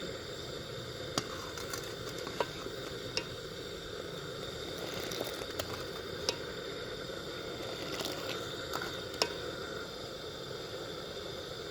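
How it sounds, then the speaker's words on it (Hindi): Milk with a little salt boiling in a pan for village-style tandoori chai, a steady low bubbling hiss with occasional faint clicks and taps, quiet and without voices. "दूध को फिर से उबाल आ गया है।"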